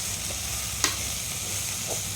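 Raw rice grains frying in oil for a gongura rice dish, a steady soft sizzle with one sharp clack of a stirring spoon partway through and a faint scrape near the end, no voices.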